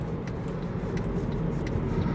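A car driving on the road during a food-delivery run, heard from inside as a steady, even low road-and-engine rumble with faint higher hiss, no voices.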